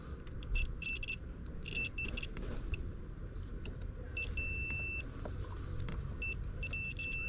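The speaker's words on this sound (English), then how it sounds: "You hear that beep?" Clusters of high electronic beeps repeat in short bursts over the low rumbling engine hum of a 1991 Yamaha Venture Royale motorcycle, fairly loud and close.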